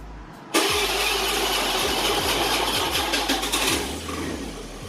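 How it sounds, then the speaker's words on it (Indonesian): Honda Beat FI scooter with a weak battery after long parking: a sharp electric starter whir cuts in, then the small engine catches and runs steadily at close range, no talk. "Saya langsung saja coba starter."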